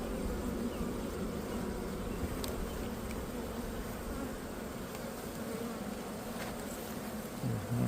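Honey bees buzz steadily around an open hive box, a dense continuous drone close by that holds an even loudness throughout with no voices.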